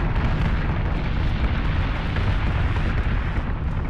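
Warship guns firing on manual from the secondary battery in Battlestar Galactica Deadlock, a constant dense rumble of booms and explosions, loud and unbroken, with no voices.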